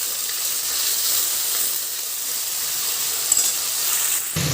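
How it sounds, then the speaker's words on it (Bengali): Paneer frying in hot oil, a dense, even sizzle and hiss that continues steadily without a break, loud and close. "পনিরটা আস্তে আস্তে করে তেলের মধ্যে দিয়ে দিচ্ছি ভাজা হওয়ার জন্য"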